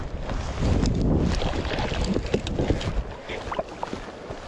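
Strong 30 mph wind gusts roar and buffet the microphone in steady gusts at a reservoir on a late fall day, with faint water sounds underneath and no talking.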